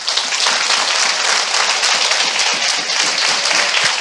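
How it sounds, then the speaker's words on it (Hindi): A church congregation claps loudly and continuously for Jesus during a Hindi worship service, with dense, sustained applause from many hands filling the space. "मैं चाहता हूं हम सब मिलके यीशु के लिए जोरदार ताली बजाएं।"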